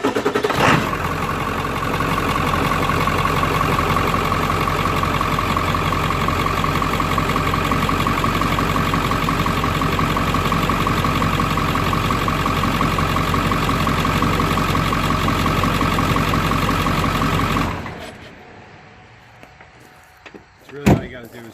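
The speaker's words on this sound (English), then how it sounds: "Start the engine to circulate the oil" A Ford 7.3 diesel engine in a pickup idles steadily and loudly for about eighteen seconds, then shuts off, leaving quiet room noise and a single knock near the end.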